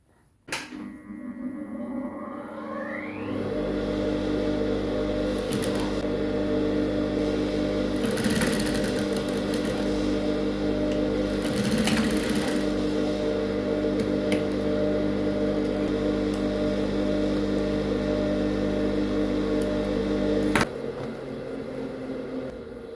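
A sewing machine stitches a detachable cape sleeve closed, running as a steady, unbroken motor hum for about seventeen seconds before stopping abruptly. No one speaks.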